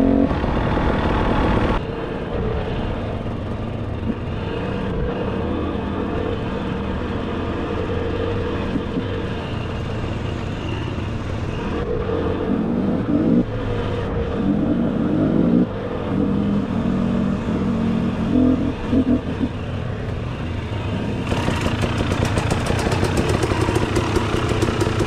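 A 250cc motorcycle ridden along a trail, its engine droning steadily and close throughout, with shifts in load and pitch and a brief drop in level near the start; no voices.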